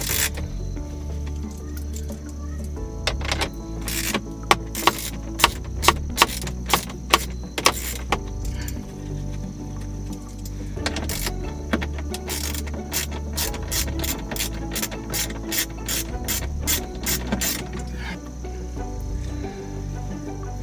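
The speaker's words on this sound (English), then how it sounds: "you're going to want to take a 7mm socket so that you can get these two out right here." A 7mm socket ratchet clicks in rapid, repeated bursts while loosening bolts inside a GMC Canyon dash, close and loud over a steady background hum, with brief pauses between runs of clicks.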